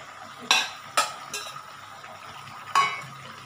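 Fried potato pieces are dropped into a pan of chilli chicken, giving a few sharp clinks and scrapes of a utensil against the pan over a faint, steady sizzle.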